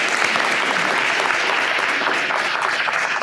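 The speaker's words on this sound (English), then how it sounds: "let's just have a round of applause for everybody involved in doing that" A dense, continuous round of audience applause fills the hall at a welcoming session, steady and loud for the whole stretch with no voices over it.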